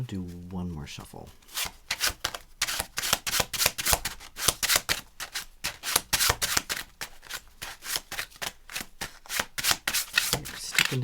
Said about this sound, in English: All right, I'm going to do one more shuffle.